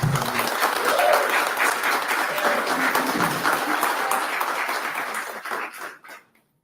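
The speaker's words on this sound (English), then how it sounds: "give a round of applause for our township" Sustained applause from a crowd at a Thornton town meeting, steady and fairly loud for several seconds before tapering off and stopping abruptly at the end.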